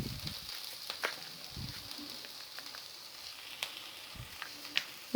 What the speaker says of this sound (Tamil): குடைமிளகாய் வதங்கிருச்சு